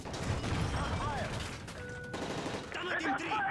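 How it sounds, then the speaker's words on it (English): Gunfire aboard a breached presidential plane in Modern Warfare 3, a dense, loud crackle of rapid shots with crashes and clatter packed across the whole stretch. "That's gunfire!"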